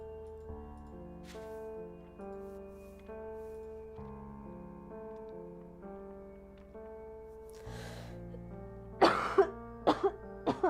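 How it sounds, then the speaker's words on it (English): A streamer coughs several times in quick succession near the end, loud bursts breaking over steady tonal game music that fills the rest of the clip. "I can feel a cough storm coming on."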